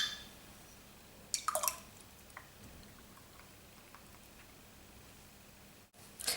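Menstrual cups are dunked into a jug of cold water. A quick cluster of small splashes and drips is heard close by, then quiet trickling and a final drip.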